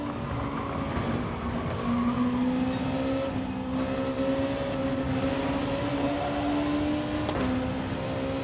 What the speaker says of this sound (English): By the sound of that noise, his tires don't sound very good.